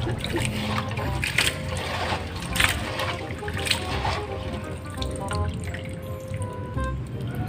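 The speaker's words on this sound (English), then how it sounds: "So we're going to wash them 3 times to keep them clean and safe for eating" Aballeng being washed in water, close splashing, dripping and trickling as the pieces are stirred and rinsed, with a few brighter clinks mixed in.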